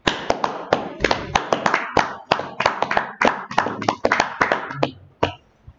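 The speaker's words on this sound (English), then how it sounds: "Clap it up." Hand clapping from an audience at a live class, a loose, uneven patter of separate claps from a modest group, close and clear, thinning out toward the end.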